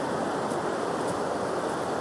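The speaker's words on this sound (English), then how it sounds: "All that water's flowing." Steady rushing water flows continuously, a broad dense roar with no breaks, like runoff pouring through a channel nearby.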